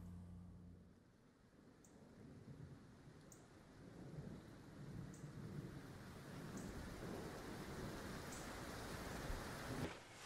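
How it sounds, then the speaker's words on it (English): Steady heavy rain pours through a film scene with a low rolling rumble of thunder swelling underneath, continuous and fairly distant, no voices. "Looks like we're gonna have to let it rain."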